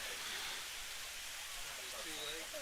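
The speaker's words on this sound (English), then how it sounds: "possibly hear the heavy rain on the field" Heavy rain falls on a baseball field during a game, a steady, even hiss that stays fairly faint and distant, with a voice faintly rising near the end.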